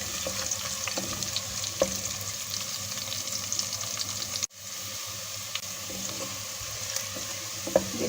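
Onions sizzle in oil with whole spices, black pepper, cumin and cloves, for Kabuli pulao, with a steady close frying hiss and scattered light clicks of stirring, broken by one brief dip mid-way.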